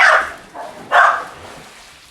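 Dogs barking outdoors while playing fetch with a ball, two sharp barks about a second apart, close and loud, with no talking.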